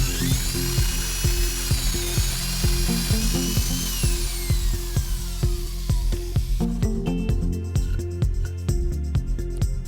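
A Makita power drill bores a test hole through a scrap piece of wood using a Kreg concealed hinge jig, whining steadily with the motor pitch dropping partway through, then shifting to rapid rattling chatter as the bit bites in.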